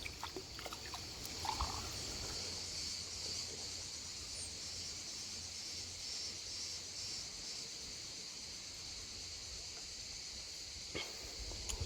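Soft, steady stream water trickling close by, a continuous gentle babble with faint insect-like buzzing above it and no voices.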